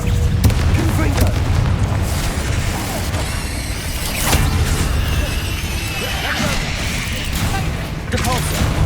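A Confringo fire spell in Hogwarts Legacy bursts into repeated loud, crunching explosions and mechanical impacts amid spell combat, with a few sharp blasts standing out over constant clatter.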